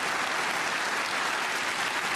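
Steady broadband crowd applause at a snooker venue during a German Masters quarter-final, continuous and fairly even throughout, heard from a distance in the background with no talk over it.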